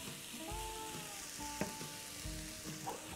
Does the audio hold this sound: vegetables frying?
yes